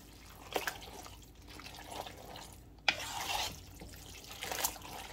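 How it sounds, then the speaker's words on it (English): Alfredo sauce is stirred into a large batch of noodles for chicken Alfredo, giving quiet, wet, squishy sloshes in a few soft bursts, with faint room noise between them. "Then we're going to stir that up. Mix that around in the noodles."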